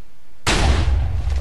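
A Minecraft TNT explosion launching a player: one sudden, loud blast that breaks out of near silence, followed by a heavy, rumbling roar that stays strong to the end.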